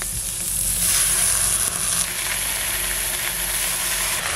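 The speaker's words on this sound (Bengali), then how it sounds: "এবার দেবো দুধমান কচুর পাতাগুলো" Dudhman taro leaves go into hot oil with garlic and chili, giving a loud, steady, hissing sizzle that fills the clip without pause.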